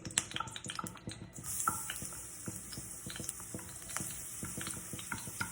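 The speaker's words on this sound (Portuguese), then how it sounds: "vou colocar o nosso alho para fritar" Garlic frying in a very hot pan of melted butter for a Parmesan risotto, a steady bright sizzle running throughout with scattered clicks of stirring, close and continuous, no talking.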